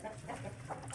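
A hen on a poultry farm raising fighting-cock breeds clucks several times in quick succession, close and moderately loud, over steady low background noise.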